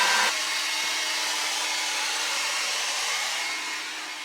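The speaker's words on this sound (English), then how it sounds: "Then Mandy went over to full power on the hairdryer just to see what that drew" A steady, loud hair dryer blows at full power from a lithium battery supply, a constant airy roar that dips slightly near the end.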